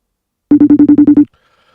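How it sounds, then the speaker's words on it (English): Outgoing phone call ringback tone: a rapid burst of about eight electronic pulses at a steady rhythm, close and loud, stopping abruptly into near silence. "See if Troy answers the phone"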